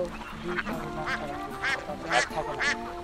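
Ducks quack several times in short nasal bursts, moderately close, on a pond at a Bangladeshi duck farm, over a steady background hum with some faint voices.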